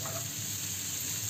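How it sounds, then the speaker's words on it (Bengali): Cocktail sausages sautéing in butter, giving a brief, even, soft sizzle that holds steady throughout without voices. "বাটারের সঙ্গে ভালোভাবে নাড়িয়ে চাড়িয়ে ভেজে নিতে হবে। ভাজা ঠিক না, একটু সতে করে নিতে হবে।"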